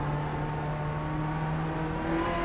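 A race car engine in a racing game on the Nordschleife hums steadily near and loud with sustained tonal engine lines that shift pitch as it downshifts into second gear, with no voices.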